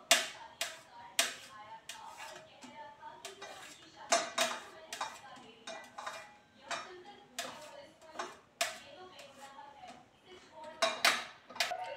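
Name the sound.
knife chopping mushrooms into small pieces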